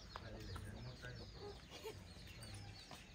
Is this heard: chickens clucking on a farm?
yes